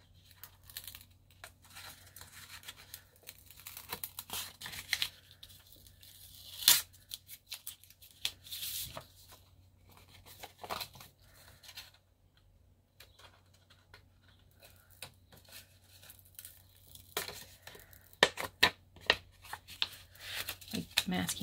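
Masking tape pulled and torn off the back of a board in a series of short ripping and crinkling bursts, some sharp and close, spread across the span with quieter handling noise and a steady low hum between them.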